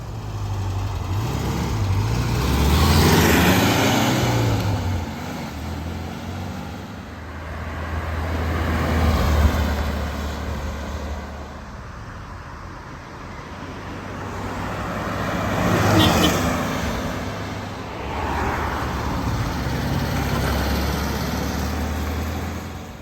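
A 1979 Volkswagen Super Beetle Cabriolet drives past on a road several times, the engine note swelling as the car approaches and fading as it pulls away, with no talking.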